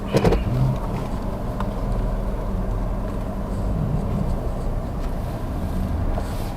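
A 2018 Mitsubishi Mirage 1.2 GLX hatchback hums steadily from inside the cabin on a test drive, a low, even engine and road drone with slight swells and no talking.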